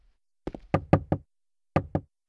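Knocks on a door in the video game Silent Hill 2: a quick cluster of five sharp raps, a pause, then two more, close and crisp against silence.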